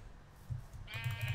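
Sheep bleat in Minecraft, a single bright nasal bleat rising near the end over a low, steady game ambience; no one speaks.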